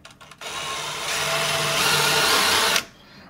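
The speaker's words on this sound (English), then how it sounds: "I use the step bit" A power drill whines steadily for a couple of seconds as a step bit bores through metal, then cuts off abruptly.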